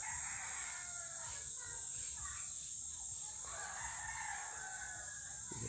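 Chickens cluck and a rooster crows faintly in an outdoor yard, with a steady high hum and soft background voices.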